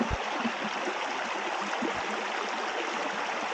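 A clear forest stream at a river crossing, rushing and burbling in a steady, even wash that fills the whole stretch with no voices over it.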